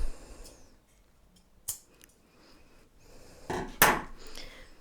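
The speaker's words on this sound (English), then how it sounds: "I'm just going to cut this elastic that I never cut before, because it's already been secured" A few sharp snips of scissors cutting through elastic on a babydoll top sewing project, close and crisp, with a faint first cut and a louder one near the end amid quiet rustling.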